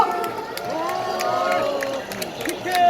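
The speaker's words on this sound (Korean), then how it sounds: "다시 한번 뜨거운 박수 보내주십시오" A crowd at a Korean candlelight protest rally near City Hall station cheering and applauding, whoops and raised voices over clapping, dense and close, with a voice on the address system heard over the noise.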